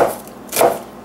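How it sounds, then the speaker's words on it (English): A knife slices through a halved onion into thin rings on a cutting board: two quick, crisp strokes, close and alone without talk. "what I like to do is to cut that into half and then slice the rings"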